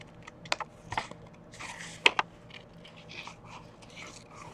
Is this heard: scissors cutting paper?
yes